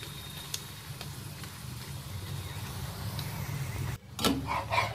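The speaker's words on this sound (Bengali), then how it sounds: "দু সাইড আমি তেল দিয়ে ভেজে নিলাম।" Paratha frying in a little oil in a pan gives a low steady sizzle with soft crackles, then a brief pause and a brighter burst of spitting and hissing near the end.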